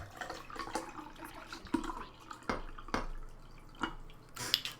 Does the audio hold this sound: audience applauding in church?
no